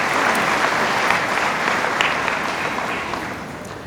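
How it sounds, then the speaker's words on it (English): Sustained audience applause at a 2016 high school commencement ceremony, dense clapping from a large crowd that gradually tapers off. "let's give them a round of applause too"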